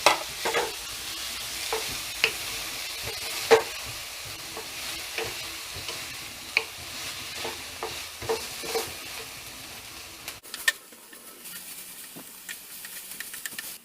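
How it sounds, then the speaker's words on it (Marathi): Finely chopped onion frying in a pan for methi bhaji, a continuous soft sizzle with repeated scraping strokes of a spatula stirring at an uneven rhythm, close and fairly quiet, no talk. "आता आपण बारीक चिरलेला कांदा टाकू 3। चांगलं असं हलवून घेऊया।"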